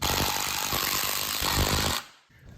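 A power screwdriver whirs loudly and continuously for about two seconds, backing short screws out of a door security kit, then cuts off abruptly into quiet.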